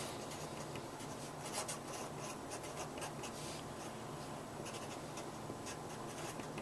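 A pen scratches out a small star or asterisk on paper, a soft, continuous rasp of short strokes, close and quiet, with no talking.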